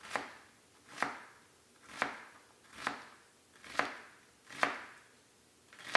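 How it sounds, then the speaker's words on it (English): A knife slices through an onion on a cutting board, making seven evenly spaced, crisp chopping strokes about one per second, close and moderately loud with no talking. "So we have horizontal and vertical slices through our onion, and then we're just going to want to slice those off."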